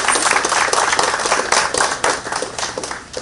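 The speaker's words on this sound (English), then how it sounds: "So give them a round of applause." An audience at a pub launch in San Fernando, Trinidad, gives a round of applause. The clapping is loud, dense and continuous and is close at hand, tapering slightly at the end.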